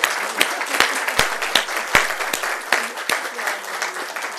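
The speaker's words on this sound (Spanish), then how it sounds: "Así que yo pediría un aplauso para Joaquín y Tere." An audience applauds steadily, many hands clapping close by in a dense patter with a few sharp louder claps standing out.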